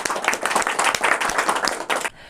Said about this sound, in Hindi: डॉक्टर एन खन्ना साहब के लिए आप लोग जो है एक जोरदार ताली से स्वागत करेंगे